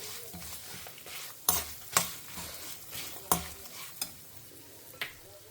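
Grated coconut is stirred and fried in a pan, with a soft sizzle under several sharp scrapes and clacks of a spoon against the pan at an irregular pace.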